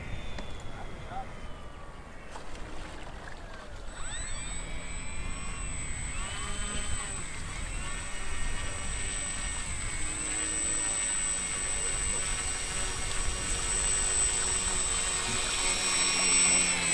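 An FMS Super EZ RC plane landing on floats: a high, buzzing electric motor whine rises and shifts in pitch as it passes and settles, fairly distant, with people talking over it.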